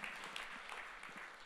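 Brief burst of audience applause inside a church, a dense patter of many hands clapping at moderate volume, steady throughout without talk over it.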